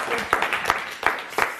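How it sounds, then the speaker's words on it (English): Audience applause at a live magic and hypnosis stage show, a short burst of claps from a crowd mixed with talking voices. "Big round of applause"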